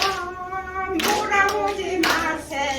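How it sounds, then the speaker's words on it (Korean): An audience at a seniors' welfare center lecture claps hands in bursts, close and lively, over a sustained tonal backing with a voice faintly present. "박수 치시고"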